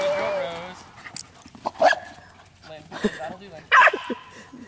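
A corgi herding sheep gives a few short, sharp barks and yips spread out in bursts, while people talk nearby outdoors.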